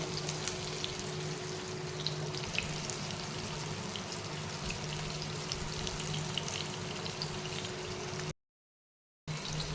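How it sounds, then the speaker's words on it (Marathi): Penga fish fries in a pan with very little oil, giving a steady, close crackling sizzle that holds evenly throughout under a faint low hum, with a brief cut to silence near the end. "मासा आपला फ्राय झालेला आहे, छान एकदम मस्त भाजलेला आहे मासा।"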